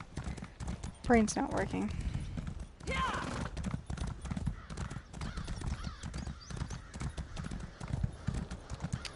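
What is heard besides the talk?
horse hooves from a video game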